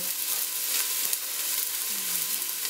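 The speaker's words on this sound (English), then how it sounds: "So I'm just adding my onions here." Onions sizzle in a hot pan while shrimp creole is being cooked, giving a steady, even frying hiss that runs the whole time at moderate loudness with no talking.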